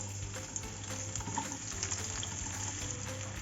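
Chopped onions fry in hot oil with cumin for smoky bhuna murg, a steady close sizzle and crackle that continues throughout with no talking.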